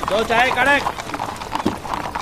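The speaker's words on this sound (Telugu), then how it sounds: "ఆ పోలీసు వాళ్ళు గుర్రాలు చూడరా ఎంత బాగున్నాయో" Police horses clip-clop with hoof beats under nearby voices that speak over much of the short stretch.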